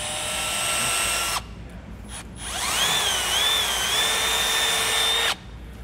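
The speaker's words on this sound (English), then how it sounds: "just using a 3/8 drill bit, I'm going to go ahead and just kind of go through our grommet here" A 3/8 drill bit on a power drill bores through a rubber wiring grommet, its whine steady and close, stopping briefly and then rising again into a sustained pitched drilling that cuts off near the end.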